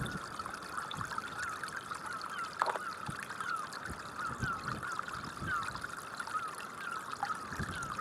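Geese and other waterfowl honk and call on a tidal salt marsh at high water, a steady chorus of distant calls over a constant background wash, with occasional louder calls standing out.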